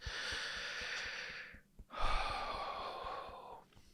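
A long, deep breath drawn in slowly through the nose, a close airy rush lasting over a second, then a short pause and a second breathy exhale-like rush, no talking.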